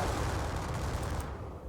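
Musket volleys and cannon fire from a Napoleonic-era battle at Eylau in a strategy video game, a dense, continuous roar of gunfire heard alone for under two seconds before tapering off.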